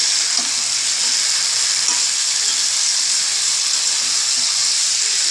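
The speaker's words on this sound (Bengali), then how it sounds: "বাঁধাকপির ঘন্ট একই সাথে মাছের মাথাটাকেও দিয়ে দেবো দিয়ে এবার এটাকে ভালো করে কিছুক্ষণ ধরে কষাতে হবে" Cabbage and a rohu fish head sauté in a pan for a cabbage ghonto, a loud, steady, close sizzle of frying that holds an even hiss throughout without a break.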